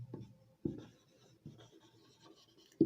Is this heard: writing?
yes